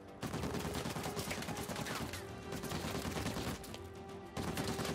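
Gunfire in the video game Uncharted 4, a steady, loud clatter of shots and impacts layered over a dense action soundscape for the whole stretch.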